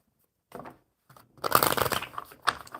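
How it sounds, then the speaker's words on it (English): A deck of playing cards is shuffled in a few quick riffle bursts at close range, a short one first, then a longer dense flurry with a final snap, with no talking. "one more good shuffle, Hope."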